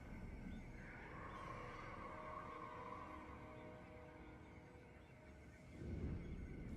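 A horse whinnies in the strategy game Total War: Warhammer 2, a long wavering neigh over a constant low game hum, followed by a brief low snort near the end.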